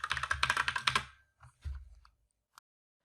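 Quick, close keystrokes on a computer keyboard as a password is entered, a brisk run of clicks for about a second, then a few scattered taps and a final single key press, with no talk.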